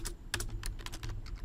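Fingers type on a computer keyboard in a steady run of close, distinct keystrokes over a low background hum, with no voices.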